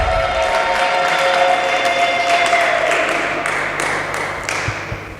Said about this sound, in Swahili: Pigia Yesu makofi kama uko unanielewa bien